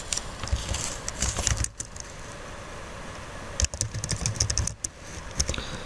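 Rapid clicking keystrokes on a computer keyboard while typing an npm install command to set up a React JS app, steady and close with brief pauses between bursts, no talking.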